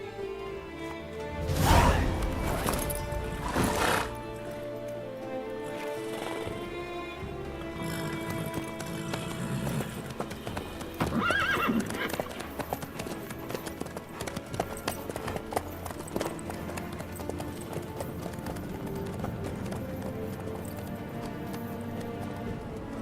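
Horse hooves clip-clop steadily with an occasional whinny in the video game Witcher 3, mid-distance and clear over a dense game score, with a louder burst near the start.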